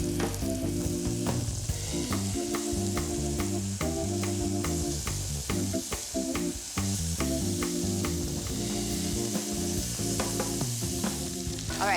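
Lamb pieces browning in a pot for Irish stew, a loud steady sizzle throughout with repeated clicks and scrapes as the meat is turned.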